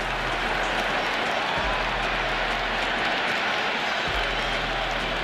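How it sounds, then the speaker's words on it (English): A packed cricket stadium crowd roars steadily through an IPL match between RCB and Gujarat, a dense, loud wall of cheering and clapping with no break. "It's evident and ever so audible that the crowd is at near bursting point at today's play"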